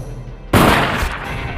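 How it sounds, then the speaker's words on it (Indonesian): A single sharp gunshot as a sheriff shoots a police officer in a film, loud and close, cracking out of a quiet scene and trailing into a rough, ringing echo. "si Sheriff menembak Samuel karena tetap ingin mendapatkan uang tersebut"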